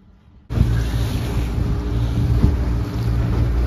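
A boat with a Mercury 90 hp outboard on a Shetland 535 runs at speed after trimming, a steady loud engine drone with heavy wind noise and water rush, starting abruptly after a brief quiet moment.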